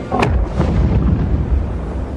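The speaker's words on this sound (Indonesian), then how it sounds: "tiba-tiba jalur kereta yang mereka naiki itu malah meledak" A loud blast bursts out suddenly as a train track explodes in an action film, then a heavy rumbling roar carries on and slowly settles, with no voices.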